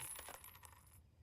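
Coins drop and jingle with bright metallic clinks in Retro Rewind Video Store Simulator, a short cascade of chimes lasting about a second before going quiet.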